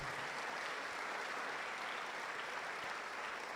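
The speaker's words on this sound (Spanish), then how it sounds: "Dale un aplauso al Señor por eso." A church congregation claps for the Lord after the sermon point, an even, sustained patter of many hands heard from a distance and fairly faint, with no talking over it.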